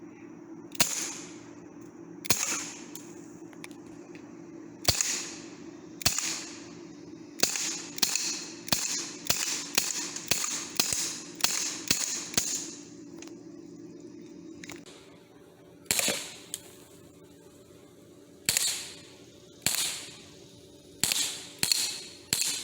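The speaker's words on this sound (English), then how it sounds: "I'm loading the BB gun, the Glock 19 BB gun." Repeated sharp cracks of a Glock 19 BB gun fired at a Rip It can outdoors, about two dozen shots spaced irregularly, some in quick bursts, each with a brief metallic ring, over a steady low hum.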